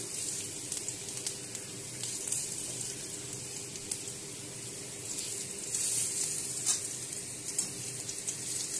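Bay leaf, a dried chilli and panch phoron spices frying in mustard oil, a steady soft crackling sizzle with brief brighter spatters, close and continuous with no talking.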